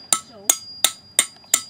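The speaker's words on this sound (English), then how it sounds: "brick hammer here." A brick hammer striking stone during sculpture carving in a workshop, five sharp, ringing blows at an even rhythm about a third of a second apart, close and loud.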